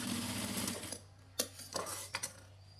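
A sewing machine stitches a tack on girls' shorts. It runs in a steady whir, stops, then gives several short clattering bursts close by. No one speaks.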